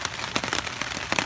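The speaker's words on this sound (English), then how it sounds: "it'd be very soothing to listen to the rain on the fabric" Rain patters on tent fabric in a ZPacks Duplex or Big Agnes Fly Creek UL 2 tent, an irregular scatter of soft drops and taps over a faint steady hiss, close by and fairly quiet, with no voices.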